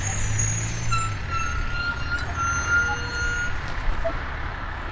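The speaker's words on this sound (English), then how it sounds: "These big trucks the whole time." Big trucks rumble past near an old hotel and church site, a low engine drone with a faint hiss of air brakes and thin high tones, moderately distant beneath outdoor ambience.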